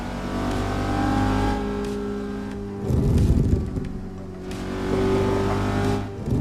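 In a driving video game, a Toyota Supra MK5 engine drones steadily at cruising revs, swelling and easing as the throttle changes, with a brief rougher burst in the middle.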